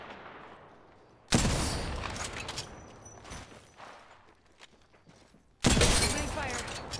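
Two heavy bursts of gunfire from Apex Legends, each a sudden loud fusillade of rapid shots that fades into scattered cracks and footsteps, separated by quieter game ambience and some talk.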